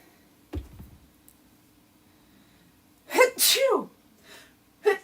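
A person sneezes once, loud and close, a sharp breathy burst after an indrawn breath, with a lighter follow-up a moment later and faint clicks earlier in a quiet craft room.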